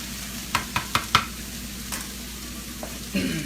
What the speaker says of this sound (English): As it starts to defrost into the pan, you can stir it around a little bit.